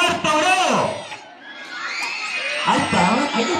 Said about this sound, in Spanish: Vamos a ver los gritos y aplausos de cuarto grado.